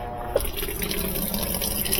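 An HE top-load washing machine fills its tub with water, a steady rushing, splashing flow heard up close and continuing throughout with no talk over it.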